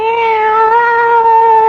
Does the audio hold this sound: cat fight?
yes